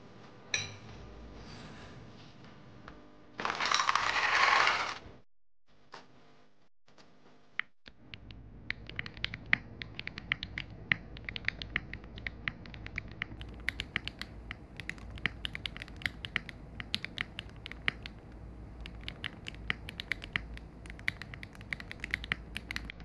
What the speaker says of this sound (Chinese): 简单给大家上机来一段打击